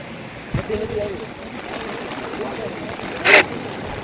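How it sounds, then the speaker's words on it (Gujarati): A river swollen after heavy overnight rain, heard from a bridge, gives a steady broadband rush throughout, with a person talking over it and a short louder burst near the end. "આ છે નદી અત્યારે પુલ ઉપરથી તમે આ જોઈ રહ્યા છો"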